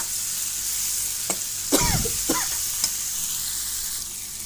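Tomatoes and half-fried onions cooking in a pan for karela sabzi, a continuous close sizzle with a few sharp utensil scrapes and taps, no talk.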